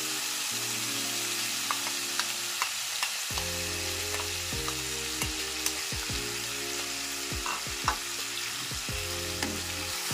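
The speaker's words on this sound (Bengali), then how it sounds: "এইবারে ভালো করে আমি ভাজা ভাজা করবো মাছটা" Small kachki fish fry in oil in a pan, a steady close sizzle with occasional spatula scrapes and clicks while stirring, over faint background music and without speech.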